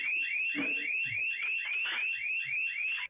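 A restaurant security alarm rings during a break-in, sounding a loud, continuous electronic warble that repeats steadily in rising sweeps for about three seconds, with faint thuds and clatter of movement underneath before it cuts off.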